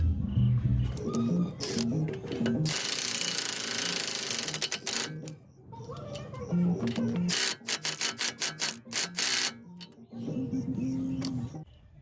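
Impact wrench tightening the CV axle center nut on a 2007-2014 Chevy Tahoe, loud close bursts of rapid hammering rattle, a long burst followed by a string of short repeated hits.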